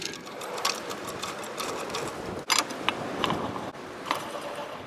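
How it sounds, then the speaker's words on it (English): A Ranger trailer is jacked up, giving a steady run of close mechanical clicking and ratcheting with a brief pause midway. "We'll go ahead and jack up the trailer"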